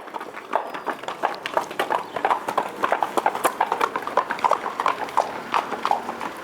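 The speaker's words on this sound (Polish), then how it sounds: "Co te konie robią?" Horses' hooves clip-clop in the Brecon Beacons, a quick, steady run of sharp knocking hoofbeats at close-to-moderate distance, continuing evenly with no voices over them.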